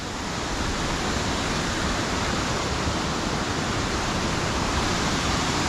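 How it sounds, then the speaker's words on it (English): Harmby waterfall plunging into its splash pool beneath a road, a loud, dense, unbroken roar of falling water heard up close and alone. "you've got the main waterfall dropping down there, coming underneath the road"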